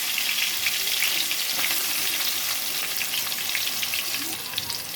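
Dried fenugreek leaves (kasuri methi) crackle in hot oil as the base for a fish curry, a dense steady sizzle heard close up that eases slightly near the end.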